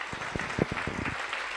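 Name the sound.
congregation applauding in church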